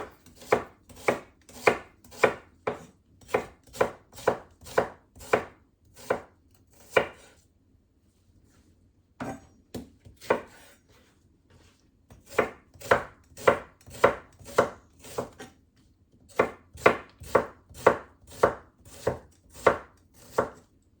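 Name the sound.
chopping vegetables for ratatouille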